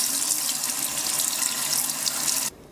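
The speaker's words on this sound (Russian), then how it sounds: "Я тщательно смываю все специи и также промываю внутренность рыбы." Running tap water pours steadily into a sink while salted mackerel and its spices are rinsed off, a broad continuous hiss that cuts off abruptly near the end.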